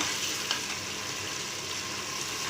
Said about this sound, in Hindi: ये देखिए कितना अच्छा सा भून रहा है